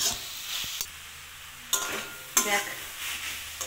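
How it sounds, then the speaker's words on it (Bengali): Vegetables are stirred and fried in a pan until soft, with a continuous sizzle broken by several sharp spatula scrapes, close by, and a single word spoken briefly. "এখন আমরা নাড়াচাড়া করতে থাকি যতক্ষণ না ব্যাপারটা নরম হয়ে আসছে।"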